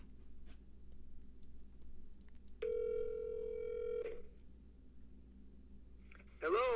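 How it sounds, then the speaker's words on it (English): A telephone call placed on speakerphone gives one steady, clear tone lasting about a second and a half over a low room hum, followed by a brief burst of sound at the end. "Let me call Doug on the phone, and we'll put him on speakerphone"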